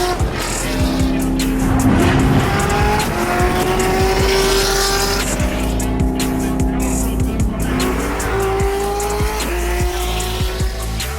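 A souped-up car drives hard with tires squealing in long pitched screeches over a loud, continuous engine roar, close and sustained throughout.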